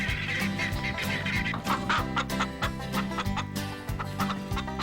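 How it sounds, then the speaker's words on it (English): Guinea hens in a farm barnyard give a rapid, excited stream of sharp, repetitive calls over a steady, lower background. "Guinea hens get really excited. They make a lot of noise, too."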